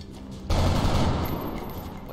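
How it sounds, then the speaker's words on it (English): A sudden burst of rapid gunfire erupts in XCOM Long War, loud and dense, continuing as a sustained volley with crackling tails after a quieter opening. "Guess I'm just gonna run and shoot."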